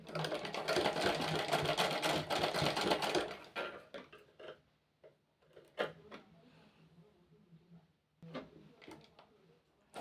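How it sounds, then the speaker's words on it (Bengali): Sewing machine stitching men's underwear fabric runs in a loud continuous burst for about three seconds, then gives way to short intermittent whirs, clicks and fabric handling at a lower level. "হয়ে গেল দুটো দিক আমার মোড়া তো আমি একটু ডবল সেলাইও দিয়ে দিচ্ছি"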